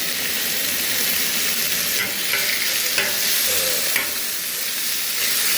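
Cuban-style beef sizzling on a hibachi griddle with the burners turned low, a steady, close hiss of frying punctuated by occasional scrapes and stirring taps.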